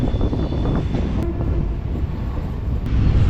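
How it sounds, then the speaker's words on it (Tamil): A Chennai MRTS suburban train runs on an elevated line between St. Thomas Mount and Chennai Beach, a loud steady rumble of wheels and carriages with brief high squeals. "இப்போ நீங்கள் பார்க்குறது ஸ்பெஷல் ட்ரெயின்."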